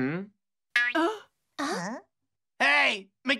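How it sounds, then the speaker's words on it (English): Cartoon stomach growling rendered as loud, wobbling, moan-like tones in several separate bursts, each bending in pitch, with silent gaps between. "Migiwa's stomach growled! It was so loud!"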